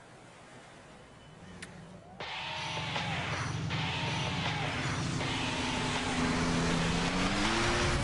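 Cars race through busy Miami city streets in The Crew driving game. After a quiet opening of about two seconds, loud engine drone swells in, with rising revs and shifting pitch that hold steady to the end.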